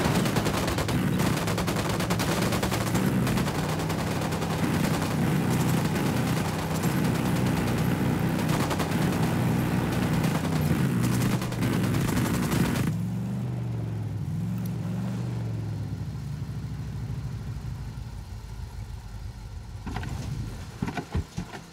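Sustained automatic gunfire in the video game Ghost Recon Wildlands, rapid bursts overlapping loudly over an engine drone for most of the clip, then thinning into sparser shots and background rumble.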